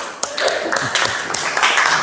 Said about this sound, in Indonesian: Tepuk tangan dulu buat Soleh